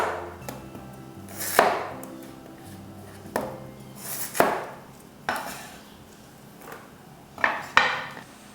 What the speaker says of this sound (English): Peel the potatoes. Then, cut them into mid-sized pieces.